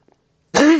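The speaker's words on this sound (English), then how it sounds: "Excuse me, this cough." A single loud, close cough bursts out after near silence, harsh and raspy with a rough throaty tail, from a person with asthma.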